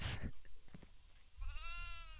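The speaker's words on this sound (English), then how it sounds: "these goats are hella slow" Goats bleat in a horror video game, a wavering, strained animal cry that rises near the end after a burst of loud noise and a few faint thuds, at moderate level with no talking.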